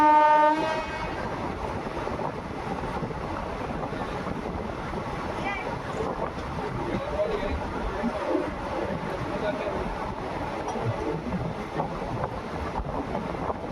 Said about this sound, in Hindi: ट्रेन की स्पीड थोड़ी स्लो की गई है